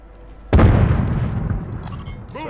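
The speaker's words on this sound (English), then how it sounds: "Throwing grenade." A grenade blast from Call of Duty Warzone bursts out suddenly as one loud, close boom, its rumbling tail decaying over the next couple of seconds amid game ambience.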